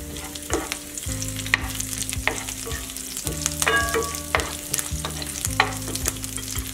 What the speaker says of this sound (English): I'm just going to put that on the pan and let it cook.